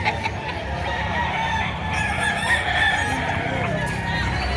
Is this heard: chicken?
yes